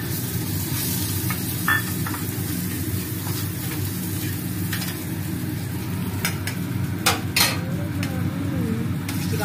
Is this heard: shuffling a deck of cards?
no